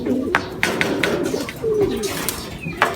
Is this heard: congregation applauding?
no